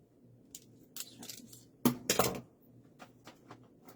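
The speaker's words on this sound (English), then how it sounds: "The scissors here." Craft scissors snip a few times in quick, crisp bursts, one pair of cuts louder than the rest. The cuts sound close and clear against a quiet room while crafting.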